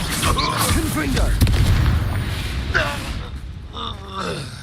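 In Hogwarts Legacy, a Confringo blasting spell lands with a heavy, rumbling boom amid crackling game effects, while voices speak and groan over the noise.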